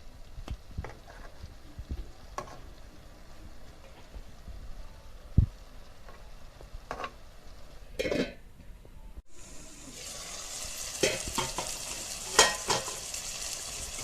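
Chicken with banana stem cooks in a pan over a medium flame, lid on and off, giving soft sizzling with occasional clinks and scrapes of the pan, growing into a louder, steadier hiss later on.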